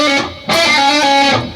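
Distorted electric guitar plays a lick with one picked note and the rest pull-offs and hammer-ons, loud and close: a brief phrase followed by a sustained, ringing run.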